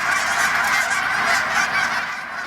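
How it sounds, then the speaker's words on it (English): A dense flock of geese migrating south for winter honking continuously overhead, many overlapping calls forming a loud, steady chorus with no pauses. "you can hear and see the flights of birds towards the south for the wintertime months, like today"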